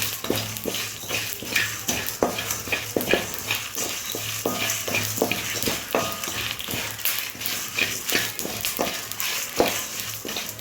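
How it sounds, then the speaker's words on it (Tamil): Dried-fish curry ingredients roasting in a pan over low oil for a village-style karuvadu kuzhambu, with steady scraping and stirring strokes and clinks of a spoon against the pan over a soft sizzle throughout. "கருக விடாமல் நல்லா வறுத்துக்கலாம்."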